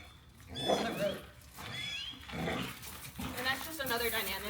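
A dog growls during a game of tug, giving several rough, loud bursts of growling with brief pauses between them, close to the listener.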